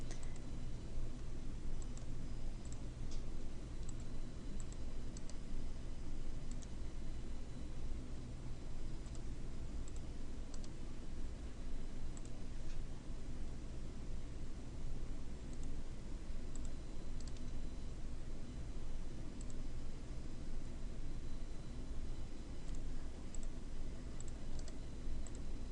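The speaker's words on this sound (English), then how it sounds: "If I click on them once, you'll notice they all select." A computer mouse clicks while selecting chart items in Excel. Faint, sparse, sharp ticks sit over a low steady hiss in a quiet room, with no talking.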